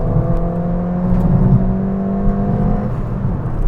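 A Ford Fiesta ST fitted with an induction kit revs, its engine holding a steady, loud droning whir with layered tones that rise and ease slightly over several seconds.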